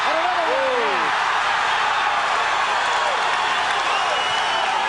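A boxing arena crowd roars in a dense, continuous wall of cheering and scattered applause as spectators rise to their feet during the Chavez vs. Leija fight.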